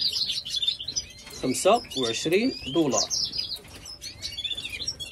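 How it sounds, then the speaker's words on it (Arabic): Bright high-pitched chirps and trills of a red siskin repeat throughout, with a person speaking briefly in the middle over the birdsong. "هذا الطائر السيسكن الفنزويلي"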